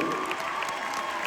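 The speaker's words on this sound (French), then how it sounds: "on va les applaudir bien fort" A large hall audience at a graduation ceremony at the Grand Rex in Paris applauds graduates. The steady wash of many hands clapping is brief and fairly distant, with no talk over it.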